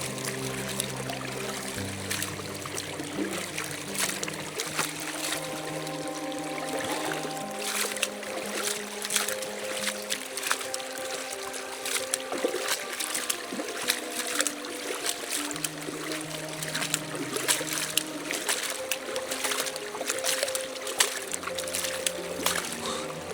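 Continuous splashing and trickling as a sluice mat is rinsed in creek water, steady gurgling with scattered bursts of sloshing across the whole stretch.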